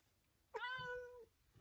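A house cat gives one short, clear meow, quiet and alone against a soft indoor background.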